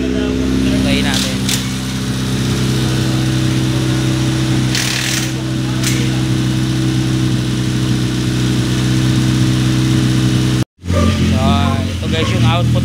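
A Honda car engine idles after a cold start with a fast, raised idle, a loud steady hum and rumble that cuts out briefly near the end before resuming with voices over it.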